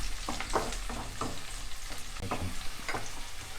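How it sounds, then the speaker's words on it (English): Onions frying over a low flame for a North Indian chicken curry, with a steady soft sizzle broken by a few spatula stirs and scrapes against the pan, all fairly close and moderate in volume. "Fry it in a low flame."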